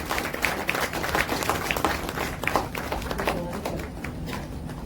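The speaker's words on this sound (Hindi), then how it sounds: "जोरदार तालियों से हम सभी स्वागत करें" Audience applause at a poetry award ceremony honoring poet Preeti Tripathi at Pacific Mall, Dwarka: a steady, moderately loud patter of many hands clapping for about five seconds, with scattered sharper claps.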